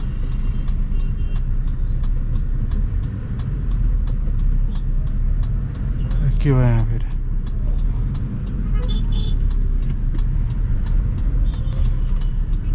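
A car creeps slowly through crowded city traffic on a narrow street, first gear with the clutch half pressed. A steady low engine and road rumble runs throughout, with a warbling horn-like sweep midway and a brief spoken question.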